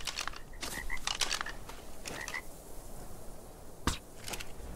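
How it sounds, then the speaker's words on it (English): Frogs in ARK: Survival Evolved croak several times in irregular bursts, with a louder single croak near the end, all close and clear with no speech. "Let's get the frogs back to a safe place."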